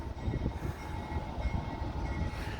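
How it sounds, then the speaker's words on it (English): CSX freight train passing near the Hudson City Amtrak station as it moves from the siding onto the main line, a close, loud rumble of rolling wheels and rattling cars with a steady tonal hum. "We got a CSX coming across."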